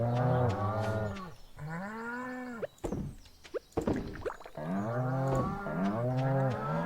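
Cartoonish cattle moos from the farm in the video game Stardew Valley, several long bellowing calls in close succession, loud and near, with short clunking game noises in a gap between them and no talk.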